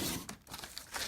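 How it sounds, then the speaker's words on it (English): A paper trimmer slices through a sheet of glitter paper in one short, close, crinkly cutting scrape with a slight tearing texture, with no talking. "Let's grab our paper trimmer and cut it into 2-inch sections."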